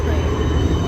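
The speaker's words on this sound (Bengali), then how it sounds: "ওই দেখুন ট্রামও আছে, হাঙ্গেরি ট্রাম, সুন্দর" A tram in Budapest, Hungary rumbles loudly and close by in a short burst of steady rail noise with wheel grind.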